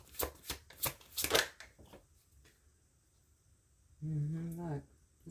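Tarot cards are shuffled in a quick run of crisp, riffling flicks close by, followed by a pause and then a short burst of a voice speaking.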